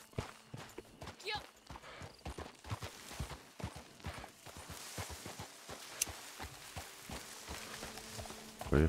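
Horse hooves clip-clop at a walking pace in Red Dead Redemption 2, a steady run of hollow clopping footfalls under a game soundscape, with a voice speaking over it at times.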